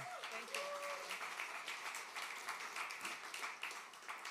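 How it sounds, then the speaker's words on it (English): Audience applause at a House of SpeakEasy literary stage show, a steady, dense patter of clapping that holds through the whole stretch, with a few voices briefly audible over it. "So big round of applause for Eiren"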